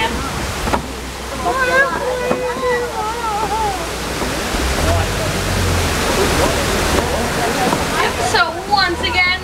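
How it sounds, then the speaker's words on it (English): A safari vehicle splashes through a river trail at Animal Kingdom, with a steady rush of churning water. People talk over it and birds call now and then. "We're going in water."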